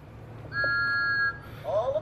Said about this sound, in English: And this is the beep.